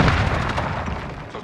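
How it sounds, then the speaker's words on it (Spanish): A frag grenade explodes in Call of Duty Warzone with a loud, close boom that rolls off over a second and a half, with no talk over it. "Lanzando una granada de fragmentación"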